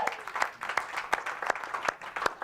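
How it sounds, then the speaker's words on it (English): Audience applause for a guest at an evening event: a small, sparse crowd clapping at a moderate pace, fairly quiet and distant, with distinct individual claps standing out over a soft wash. "I want to give another round of applause to Emily Terpstra for being our guest tonight"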